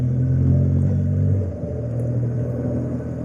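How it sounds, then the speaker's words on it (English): City traffic in Cuttack from a moving BMW motorcycle: a constant low engine rumble and road noise, with a deeper throb easing off midway as the ride continues. "So this is Cuttack traffic."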